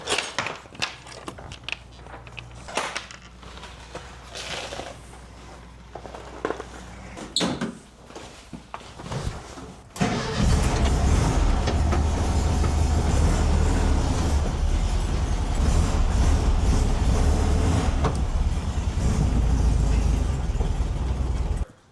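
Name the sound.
bus engine starting and driving out of garage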